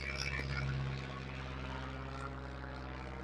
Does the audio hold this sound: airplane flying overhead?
yes